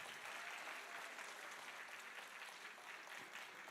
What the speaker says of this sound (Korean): 다시 한번 우리 후보자 여러분께 뜨거운 박수 한번 부탁드리겠습니다